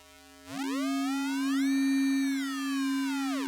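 Polygogo synthesizer oscillator with its cycle feature engaged: a steady tone rises in a sweeping glide, its bright harmonics swelling up and overpowering the fundamental, then falling back near the end, sustained and alone.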